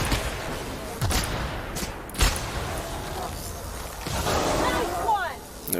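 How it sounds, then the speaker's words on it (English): Slow-motion gunfire in The Outer Worlds aimed at a gorilla-like beast, with a few deep, drawn-out shot thumps and mechanical clatter over steady game ambience. "let's go in slow-mo and shoot this guy in the face"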